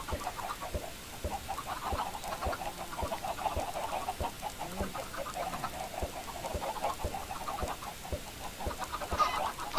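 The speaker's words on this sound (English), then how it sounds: "I have no idea how many chickens I've got in there." Chickens cluck steadily in a video game, a dense flock of overlapping clucks and short rhythmic ticks held at an even, moderate level with no talking.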